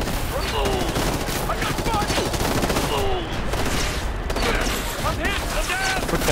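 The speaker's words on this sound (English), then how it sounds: "Where is the MG firing from?" Gunfire in the video game Ghost Recon Future Soldier, with dense, continuous bursts of machine gun fire and rattling shots filling the whole stretch, loud and busy, with whistling battle effects mixed in.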